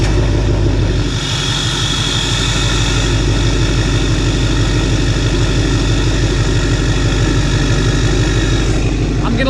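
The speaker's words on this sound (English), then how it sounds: "So we're going to have to fire up the Duramax and give it a cold start." Cold start of a Duramax diesel truck engine, a loud, steady, rumbling diesel idle with a low throbbing clatter that holds evenly from start to finish, close to the microphone.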